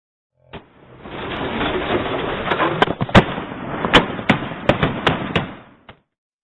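Police gunshots captured on a body-worn camera during an officer-involved shooting in Jacksonville: a single crack, then a loud rushing wash with a volley of sharp shots fired in quick irregular succession, ending in one final isolated shot.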